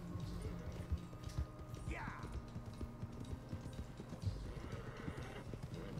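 Horse hooves clip-clop steadily in Red Dead Redemption 2, a close rhythmic plodding over ground with an occasional whinny-like sweep, under a low game ambience.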